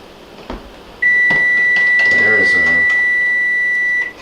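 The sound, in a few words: kitchen timer beeping for boiled eggs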